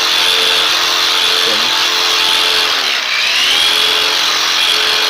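Cordless battery-powered grinder fitted as a pine resin tapping tool, running continuously up close with a loud, steady high-pitched whine and a brief dip in pitch midway.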